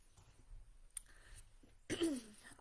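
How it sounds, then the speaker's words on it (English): A single sharp cough bursts out near the end, loud and close, after a stretch of quiet room noise during a Shabbat service. "I'm sorry, I cough."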